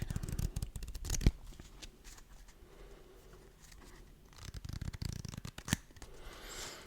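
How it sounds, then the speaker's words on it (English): Riffling and flicking of a deck of Pokémon trading cards being shuffled up close, in bursts with a few sharp snaps, no talking. "And I shuffled up the cards now."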